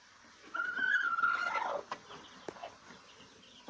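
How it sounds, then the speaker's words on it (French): Hen on a farm clucking while laying an egg, a close drawn-out squawking call followed by a few short clucks, with quiet rustling around it. "Il y a une poule qui pond."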